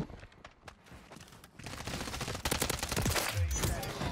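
Shotgun blasts in a Modern Warfare 3 one-on-one match, a quieter opening giving way to a loud, dense barrage of gunfire over the last half, with a booming low thud near the end.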